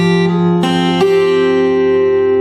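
Notes are plucked one at a time on the first string of a fingerstyle guitar for a song, three clear, ringing, sustained tones that move in pitch, close and loud with no talking.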